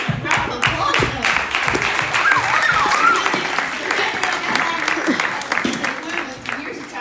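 An audience claps in a sustained, dense round of applause at a survivor congratulation event, with scattered voices and cheers mixed in throughout, steady and fairly loud.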